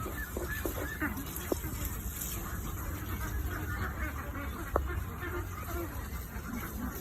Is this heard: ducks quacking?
yes